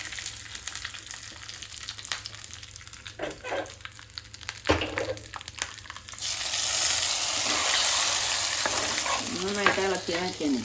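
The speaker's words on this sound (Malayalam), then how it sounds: "ഇനി നമുക്ക് ഇതിലേക്ക് കറിയിലേക്ക് ഒഴിക്കാം" Hot coconut-oil tempering of mustard, fenugreek, chillies and curry leaves poured into kalan curry: a few clinks and scrapes of the pan, then a sudden loud sizzling hiss that swells and holds, with a brief whine near the end.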